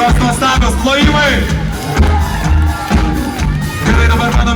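A concert audience cheers and claps for two dancers, a loud, dense crowd roar with whoops rising over heavy, thumping music.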